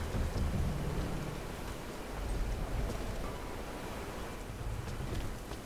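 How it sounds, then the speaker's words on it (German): Water rushing and splashing into a container in Rise of the Tomb Raider, a steady broad wash like heavy pouring, fairly loud and continuous with no voices over it. "wir füllen den mit Wasser gerade"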